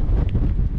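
Strong wind buffets the microphone on an open mountainside in the Lake District, a loud steady roar with low rumbling gusts throughout and no voices.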